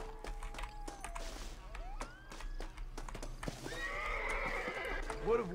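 A horse in the Western video game Red Dead Redemption whinnies near the end amid clip-clopping hooves and game effects, with people talking over it.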